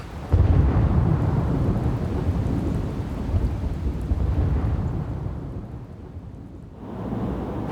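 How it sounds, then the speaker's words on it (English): Heavy rain pours down steadily while deep thunder rumbles and rolls through it, loud and close at first and easing off toward the end. "That rain came down heavy."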